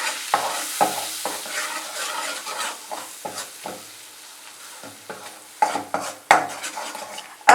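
Refined flour being stirred into melted butter in a pan for white sauce, with repeated scraping strokes of a utensil over a soft, steady sizzle, close and clear, no voices.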